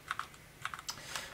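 Keystrokes on a budget EDJO mechanical keyboard with red switches, a quick irregular run of clicky-clacky taps up close with no talking.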